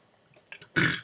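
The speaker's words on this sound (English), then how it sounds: "I just burped" A single loud, close burp erupts abruptly and fades over a fraction of a second, preceded by a few faint small mouth sounds, during a quiet algebra lesson.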